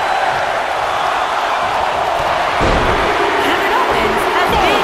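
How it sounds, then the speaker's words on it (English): A dense wrestling arena crowd in the video game WWE 2K19 roars steadily throughout, swelling louder about halfway through, with a muffled thump and a commentator's voice faintly beneath. "Listen to this crowd count the next one in."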